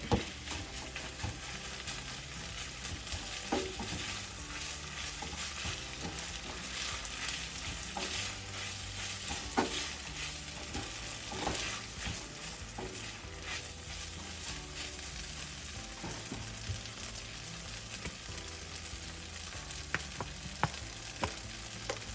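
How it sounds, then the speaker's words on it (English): Rice toasting with browned vegetables in a hot frying pan, a steady sizzle throughout with occasional scraping stirs, close and fairly loud, no talking. "Our veggies have got some color, so we're gonna add in our rice. Get it toasting up."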